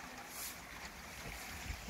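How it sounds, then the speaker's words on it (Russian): Strong wind buffeting the microphone aboard a catamaran with a steady roar, gusting a little, with faint water sounds beneath. "Ниоткуда не возьмись, появился вот такой сильный ветер."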